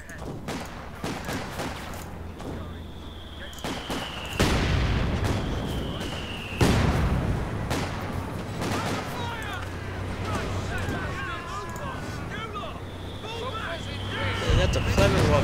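Bofors cannon firing in the Company of Heroes video game, heavy booming shots and explosions thudding at intervals amid a dense battlefield din, with voices talking throughout.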